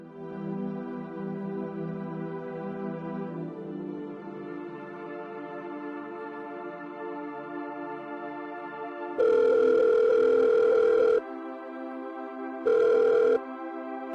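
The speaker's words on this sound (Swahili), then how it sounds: "hata simu hataki kupokea" A telephone rings unanswered. A sustained electronic tone is broken by two louder ringing bursts near the end, with no one speaking.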